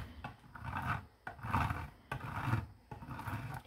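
Material is rubbed against a grater to build a rock cycle model, giving four rasping scraping strokes in a steady rhythm, fairly close and soft, with short pauses between passes.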